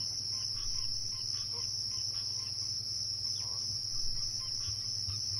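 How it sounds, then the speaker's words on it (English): Crickets chirp steadily in a night soundscape after a fight in a Dungeons & Dragons tabletop session, a constant high-pitched trill with soft low background hum and no talk. "Those damn post-battle crickets."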